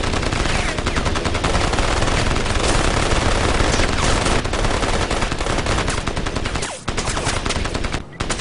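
A submachine gun in Crysis fires long, dense automatic bursts, loud and close, almost continuous for several seconds with only two brief breaks.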